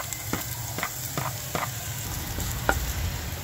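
Garlic stir-frying in a pan at the start of a pork and cauliflower stir-fry, a steady sizzle broken by several short scraping stirs spaced through the clip.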